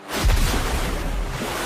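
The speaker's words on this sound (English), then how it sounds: "Water pillar." A water pillar spell erupts near a lake in an anime, a sudden heavy whoosh and boom settling into a sustained roaring splash of churning water.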